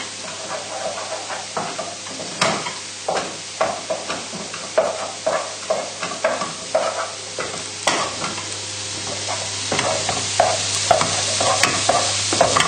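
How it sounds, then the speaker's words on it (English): Butter melting into leeks in a hot pan is stirred with a utensil, giving a steady series of scraping, knocking strokes over a soft continuous sizzle, close and fairly loud, with no talking. "So just stirring the pan."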